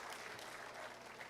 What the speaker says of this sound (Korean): 박수 한번 쳐주시길 바랍니다